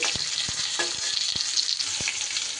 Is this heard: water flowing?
no